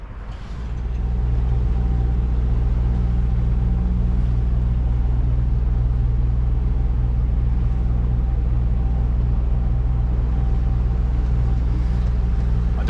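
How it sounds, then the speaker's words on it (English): A boat engine idles on an icy morning on a river, warming up with a steady, loud, low rumble and hum that settles into an even drone after starting. "we'll give the engine a nice warm up."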